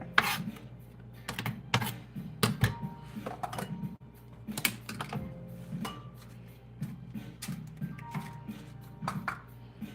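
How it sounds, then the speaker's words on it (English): Knife cutting a chunk of onion on a board during late-night frittata prep, a string of irregular light taps and knocks at close range over a low kitchen hum. "there's a big piece of onion over here, so I'm just going to cut it up a little bit"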